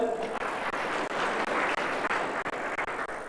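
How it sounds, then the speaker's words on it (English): Audience clapping at a women representative candidates' debate in Turkana, a steady dense patter of many hands sustained throughout, close and fairly loud with no talking over it. "Can we clap for them?"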